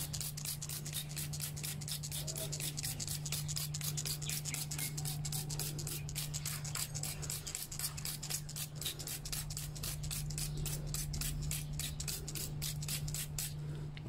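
Rapid rhythmic scrubbing of a Yamaha Aerox scooter brake part with soap and water, a steady brushing rasp repeating quickly and evenly, close-up, over a constant low electrical hum.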